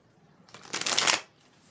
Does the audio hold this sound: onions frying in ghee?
no